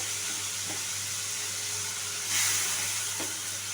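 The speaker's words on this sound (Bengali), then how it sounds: "এই সেদ্ধ করে রাখা টমেটোটা খুব ভালো করে মিশিয়ে নিতে হবে" Half-boiled tomatoes being stirred into frying spices in a pan for a rohu and spinach dish, with a steady close sizzle, a few soft stirring scrapes and a brief burst of steam partway through.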